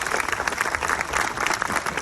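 An audience at a film event applauding the cast and crew, a dense, steady wash of clapping from many hands that fills the whole stretch, fairly loud and close.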